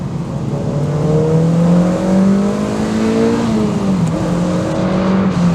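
Zingy four-cylinder engine of a Mazda MX-5 NC roadster revving hard through short gear ratios on a twisting, winding road with the top down, loud and steady with rising pitch and a brief gear-change dip, no talking.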